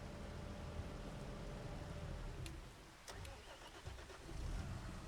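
A Deutz tractor in a farming video game cranks and starts with a mid-pitched engine rumble that stutters, dips briefly and then settles into a steady idle.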